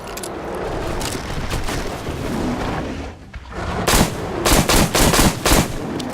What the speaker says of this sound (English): I would think that we are just supposed to shoot it.